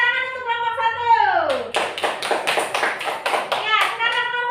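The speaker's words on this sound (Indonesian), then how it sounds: "tepuk tangan untuk kelompok 1" Classroom of children clapping for the first group, a dense burst of hand claps lasting a few seconds after a teacher's voice, with kids' voices mixed in near the end.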